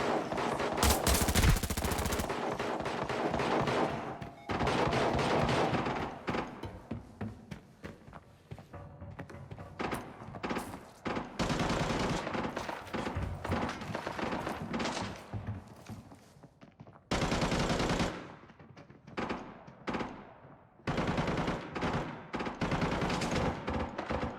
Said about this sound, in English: I spotted a head near the vault and instantly opened fire